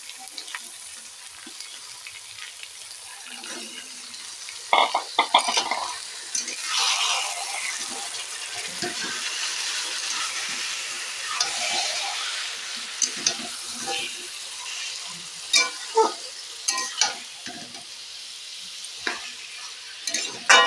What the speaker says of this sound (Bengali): আমি যার জন্য এইভাবে মাংসটাকে ভেজে নিলাম